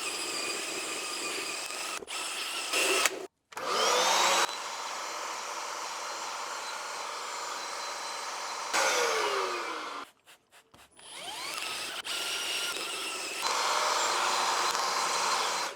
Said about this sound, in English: To clean up the carpet, we're gonna use drill brush attachment,